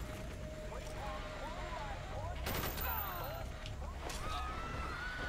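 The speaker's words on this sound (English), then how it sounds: "I should keep an eye on how much I use this shotgun" Gunfire from a shotgun in the video game Call of Duty Black Ops, a sharp blast near the middle followed by another burst later, amid game effects, background noise and a man's chatter.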